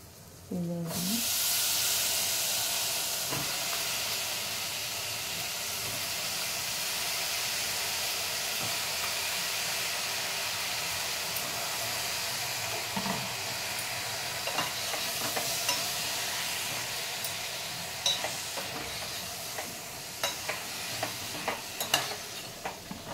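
Fried bottle gourd pieces drop into a hot pan for a lentil rasam, setting off a loud hiss that settles into a steady sizzle, with scattered spoon-stirring clicks toward the end.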